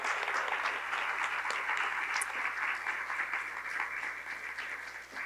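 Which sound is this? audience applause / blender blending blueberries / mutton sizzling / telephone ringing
audience applause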